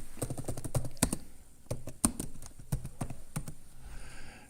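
Fingers clatter steadily across a computer keyboard, with irregular bursts of keystrokes and a few louder taps, close and alone, trailing off into quiet at the end.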